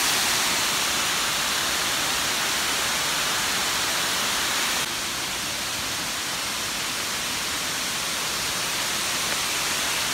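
Issaqueena Falls, a waterfall in Oconee State Park, roars as a steady, dense broadband rush heard from nearby, constant and loud throughout with no voices.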